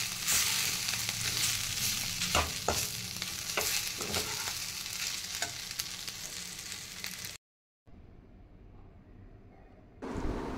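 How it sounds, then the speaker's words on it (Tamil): Ivy gourd (kovakkai) fry sizzles in a pan as it is stirred with spice powder sprinkled in. Steady frying hiss is broken by scraping stir strokes, and the sound briefly cuts out near the end before it resumes. "நல்லா கிண்டி இறக்கி வச்சுங்க."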